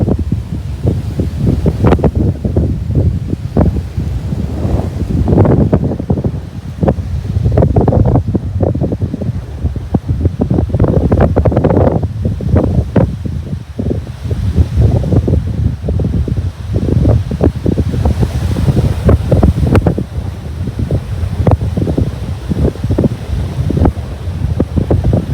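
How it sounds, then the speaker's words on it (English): Strong gusty wind of about 40 km/h roars and buffets around a DJI Mavic Air 2 drone in flight, a loud, continuous rumbling rush of wind noise with no voices. "even though the wind's 40 kilometer per hour"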